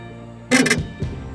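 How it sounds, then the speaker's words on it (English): A catfish hauled from the Amazon River onto a fishing boat lets out a short, loud, harsh rasping croak, then a fainter low grunt close by, with no talk. "Have you ever heard a catfish make noises like that?"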